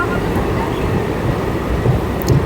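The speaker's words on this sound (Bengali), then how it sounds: "আমাদের ট্রেনটি কিন্তু এখন কৃষ্ণনগর স্টেশনের কাছে প্রায় চলেই এসেছে।" A train nears Krishnanagar station on the reopened Amghata–Krishnanagar line, its heavy low rumble loud and close and continuous, with faint high squeals near the end.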